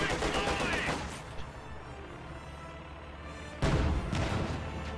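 Tank cannon shots and gunfire from a T-34 in a strategy video game battle: a loud burst of rapid firing up front, then a sustained rumble, then another heavy blast near the end.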